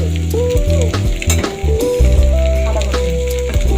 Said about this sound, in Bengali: চিকেন চাউমিনের জন্য এখানে নুডলসটা ভাজা করে নিচ্ছি